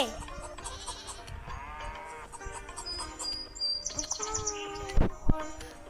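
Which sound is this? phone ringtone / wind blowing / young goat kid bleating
young goat kid bleating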